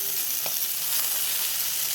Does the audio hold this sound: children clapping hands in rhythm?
no